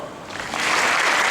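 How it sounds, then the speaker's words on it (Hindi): A crowd breaks into hand clapping. The brief burst swells from soft to full, dense applause within about a second. "देखिए तालियां बजाइए"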